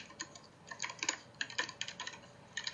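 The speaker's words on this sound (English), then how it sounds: "and try to type well" Quick, uneven clicking of keys on a computer keyboard, close and fairly quiet, in short bursts of several strokes with brief gaps between.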